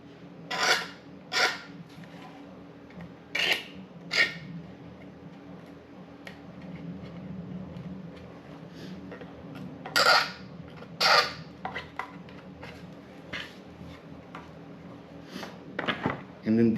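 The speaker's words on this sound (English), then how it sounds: "Deburr that as well, just gently, nothing crazy on these." A deburring tool is drawn gently over 3D printed PLA parts for a DIY Telecaster-style guitar, making short, close scraping strokes at irregular intervals over a low background hum.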